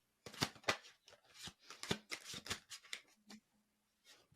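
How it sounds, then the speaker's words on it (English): Playing cards riffled and shuffled in a quick series of crisp ruffling bursts, close up, tapering off near the end. "the sound of cards being shuffled and like slapped on a table"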